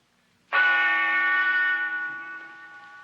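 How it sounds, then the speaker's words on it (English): A silver monastery bell strikes once, loud and close, its bright ringing tone sustaining and slowly fading with no voices over it. "The silver bell, which signals the beginning and the end of the 3-minute talking period, is about to sound"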